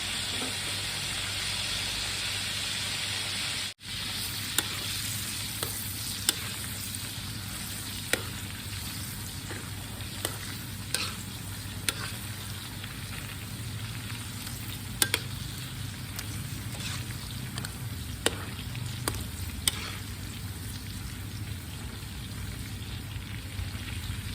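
Lemongrass pork fries in oil in a pan, a steady close sizzle and hiss running the whole time with occasional stirring clicks and taps, and no one speaking.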